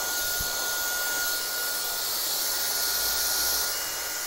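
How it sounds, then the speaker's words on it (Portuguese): A hair dryer on medium speed and high heat blows steadily while hair roots are straightened with a mixed-bristle brush, a close, even whooshing roar that holds the whole time with no talking. "Secador da mesma regulagem, velocidade média, temperatura alta."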